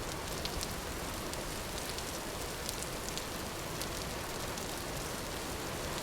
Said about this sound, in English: Sounds like the rain.